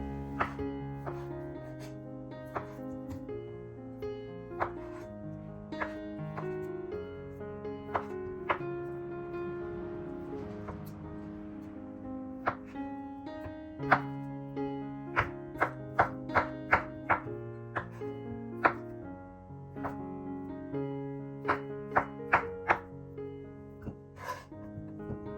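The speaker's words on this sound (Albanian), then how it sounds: "Patatet e ftohura i grim si të shihet në video dhe i vendosim në një enë." Cooled boiled potatoes being chopped for a potato salad, with a run of close knife thunks on a board, irregular at first and then quicker, sharper and denser near the end, with no talk over it.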